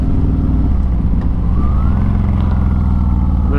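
S&S 128 cubic inch engine with a 475 cam in a Harley-Davidson Softail Fat Bob pulling hard in second gear, a loud, steady low throttle roar with rising pitch building throughout.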